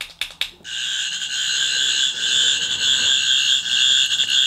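An 8th Doctor sonic screwdriver toy gives a buzzing, warbling damaged-sounding electronic tone after a few brief taps. The tone starts abruptly and then holds steady and loud for about four seconds, close and alone.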